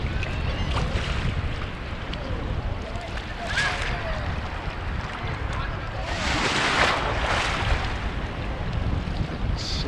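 Rough Gulf of Mexico surf at Clearwater Beach: waves churn and break close by in a constant wash, with wind buffeting the microphone and surges swelling louder midway.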